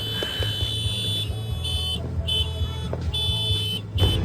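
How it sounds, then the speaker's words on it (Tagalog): A loud, sustained vehicle horn blares in bursts over a steady engine rumble, cutting off and restarting several times. "Sobrang ingay ng busina"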